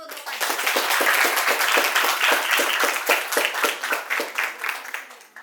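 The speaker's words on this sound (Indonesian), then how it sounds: "kita beri aplaus dulu untuk Pak" An audience applauding a speaker after a teaching session, dense rapid clapping from many hands that builds quickly, holds, then thins and fades out.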